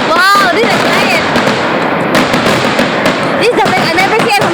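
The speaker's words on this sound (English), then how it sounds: "Continue the fireworks." Fireworks burst over Lake Burton at a 2014 display, giving a dense run of loud crackles, pops and whistling rockets with no gaps between them, while spectators talk and exclaim excitedly close by.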